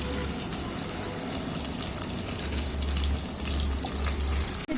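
Ginger, tomato and green chili paste sizzling hard in hot oil, with dry red chili, bay leaf, whole cumin and hing already in the pan, a steady loud close crackle throughout.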